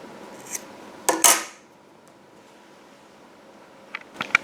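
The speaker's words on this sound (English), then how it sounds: "then you can cut your loose yarn end" Scissors snip a loose yarn end on a crocheted market bag, a couple of sharp close metallic cuts followed by quiet, then a few faint clicks near the end.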